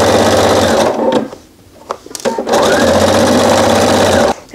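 A sewing machine stitching a quilt runs in two loud, steady bursts of rapid needle chatter with a brief pause and small clicks between them, close up and alone.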